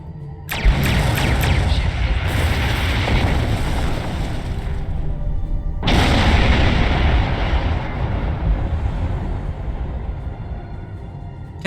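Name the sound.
starship weapons destroying Borg sphere, video game Star Trek Online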